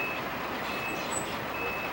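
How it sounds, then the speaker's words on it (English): A reverse alarm on construction equipment such as diggers and dozers beeps steadily and evenly at moderate distance, over a continuous rumble of engine and site noise. "when you hear the beep, beep, beeping of the reverse signal alarm, you want to make sure that you're well out of the way"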